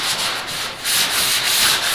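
Body filler being sanded by hand on a 1971 Pontiac GTO, a steady close abrasive rasp of back-and-forth strokes with slight surges, no voices.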